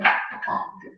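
A single dog gives a short, loud, close bark that trails off into a brief whine.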